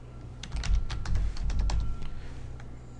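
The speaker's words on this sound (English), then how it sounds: "oops, I typed it in the wrong place" Someone types on a computer keyboard while programming a PLC, producing a brisk, close run of clicky keystrokes over a low background hum.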